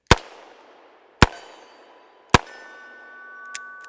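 Shots from a .357 Henry Big Boy revolver ring out, each followed by a bullet striking a 4-inch steel plate at 100 yards. Three sharp cracks come about a second apart, each trailing off in a brief ringing decay, and a fainter fourth report follows.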